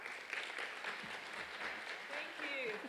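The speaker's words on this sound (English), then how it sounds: "Please give her a round of applause." Continuous audience applause at a clinical research conference, filling the whole stretch, steady and fairly close, with a voice faintly audible underneath near the end.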